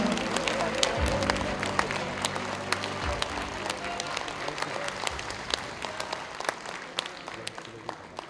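Applause from the crowd at a book launch event in Wonju: a dense, sustained patter of many hands clapping, fairly loud and even throughout, with some low murmuring and movement underneath.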